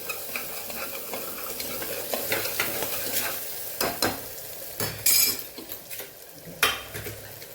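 Garlic chutney and tomato sauté in a hot pan, sizzling steadily while a spoon stirs and scrapes through them in repeated close strokes with occasional metallic clinks.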